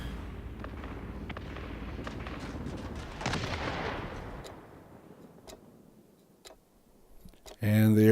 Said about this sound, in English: start bombing the heck out of the